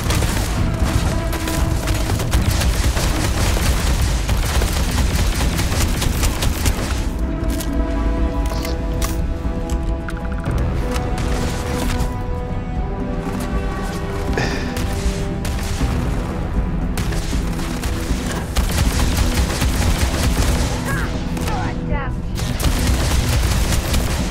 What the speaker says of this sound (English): I figured out how to pull my gun out.